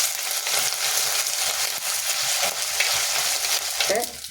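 Spices stirred and fried in a pan while making a homestyle Kerala fish curry, producing a loud, close, continuous sizzle with soft scraping strokes of a spoon through it.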